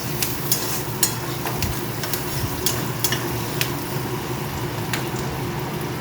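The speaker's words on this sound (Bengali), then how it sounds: "এটা ভাজা হয়ে এসছে।" Ingredients for a Bengali-style egg curry fry in a pan with a steady, close sizzle, broken by occasional sharp clicks of a spatula stirring. No one speaks.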